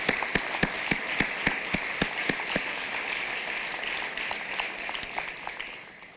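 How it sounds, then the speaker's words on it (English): Audience applause at a celebration luncheon: a few crisp individual claps up front, then a steady wash of many hands clapping in a large room, fading out at the end. "let's give them a round of applause"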